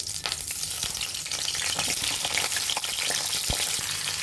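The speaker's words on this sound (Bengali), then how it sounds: "এখন পটলগুলো হালকা করে ভেজে নিব" Pointed gourds (potol) lightly frying in a little oil, a steady close sizzle with small crackles and a few soft pops running throughout, no talking.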